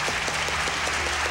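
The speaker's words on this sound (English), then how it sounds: "Applause by one's peers is the ultimate in recognition." Steady applause from an audience at an awards tribute for creative retailing, dense and continuous clapping filling the short stretch at even loudness with no talk.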